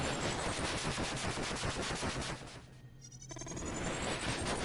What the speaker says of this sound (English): Fireworks mark the end of the summer.